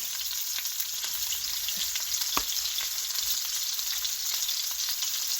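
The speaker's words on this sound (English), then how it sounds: "I am seasoning here. I'm just sauteing down some celery." Celery sautéing in a pan gives a steady, close sizzle and crackle with a few sharp pops and stirring scrapes, and no one speaks over it.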